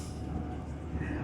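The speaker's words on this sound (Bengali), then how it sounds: "আমরা এখন ট্রেনে আছি এডিনবার্গের পথে" Inside a high-speed train bound for Edinburgh from London, a constant low rumble and hum of the carriage fills the cabin, steady and moderately loud, with a voice talking over it.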